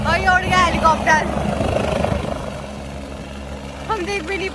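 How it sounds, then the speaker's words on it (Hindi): A helicopter takes off, its steady engine and rotor drone filling the clip, with people talking over it at the start and near the end. "और ये उड़ गया हेलीकॉप्टर"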